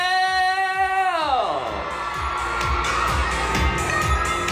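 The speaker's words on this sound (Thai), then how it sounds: "นี่ถ้ารักขนาดนี้ส่งเสียงกรี๊ดมาหน่อย" A large crowd at a Chinese New Year stage event at a Bangkok shopping mall screams and cheers, with shrill shrieks and whoops swelling into a sustained, loud roar after a falling held tone opens the moment.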